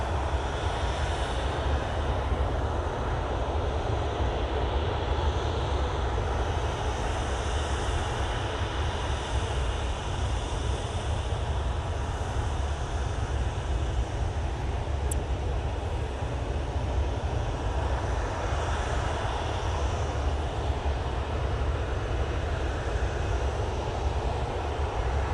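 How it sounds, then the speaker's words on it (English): An EasyJet airliner from the Isle of Man arrives at Manchester Airport with a steady, broad jet roar that holds for the whole stretch, heard from a distance and fairly faint overall. "Oh, it's the EasyJet from Isle of Man."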